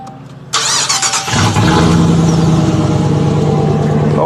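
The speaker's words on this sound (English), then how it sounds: "Do this startup and see how loud the sucker is with no exhaust on it." A 2017 Ram 1500 with no muffler or tailpipes starts up: the starter cranks briefly, then the engine catches into a loud, raw, rumbling idle that holds steady, close by.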